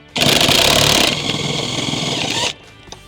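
A power tool spins out 18mm bolts from a Jeep Wrangler rear seat, giving a loud, close buzzing whir that runs for about two seconds before cutting off abruptly.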